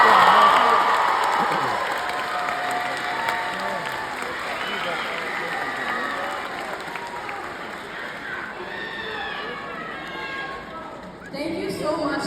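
Graduation ceremony audience in New Orleans applauding with some cheering, a dense steady clatter of clapping that starts loud and tapers slightly, briefly dipping before a fresh burst near the end, with voices mixed into the crowd noise.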